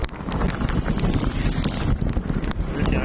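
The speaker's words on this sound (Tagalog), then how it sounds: "And guys, malakas talaga yung hangin." Strong typhoon wind gusting across an outdoor spot in the Philippines, a loud, steady roaring buffet battering the microphone, with faint sounds in the background.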